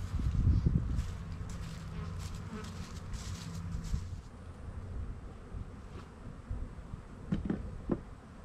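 Honey bees swarm around opened hives being split, a dense, continuous buzzing close to the microphone, with wind rumble and a few soft knocks.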